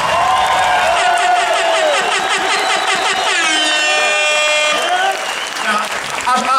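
A crowd at a live rap concert in Burgas claps and cheers loudly and continuously, with air horns blaring and whoops rising through the applause before it thins out near the end.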